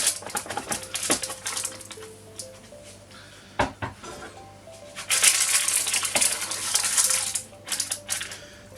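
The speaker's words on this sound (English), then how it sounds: "So we'll cut this. Nice and flaky, that's a good sign." A knife cuts through a flaky caramel apple and raisin strudel, producing crackly crunching of crisp pastry with clinks of utensil on plate, moderately close.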